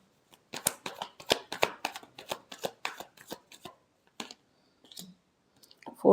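Tarot cards are shuffled by hand during a reading, giving a brisk run of close, crisp riffling clicks that slows into a few scattered taps near the end.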